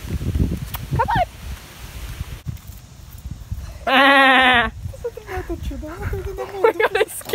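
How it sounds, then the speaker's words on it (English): A sheep lets out one loud, close, wavering bleat in the middle, with rustling, footsteps and people talking around it. "Oh my god, I scared that sheep."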